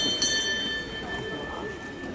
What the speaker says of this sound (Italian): Al passaggio suono della campana.